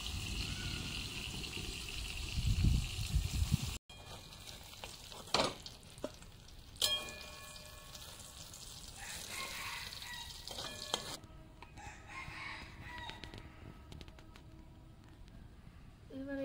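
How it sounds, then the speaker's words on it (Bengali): Eggplant slices go into hot oil for frying. A busy sizzle is followed by a sharp cut, then quieter frying hiss with scattered clatters and scraping of utensils throughout. "এবং তেল গরম হয়ে গেছে, এবার দিয়ে দেবো বেগুনগুলো, ছেড়ে দেবো।"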